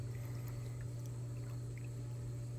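Water trickles steadily from the hose of a 296 gallon per hour pool pump, a faint continuous dribble over a constant low motor hum.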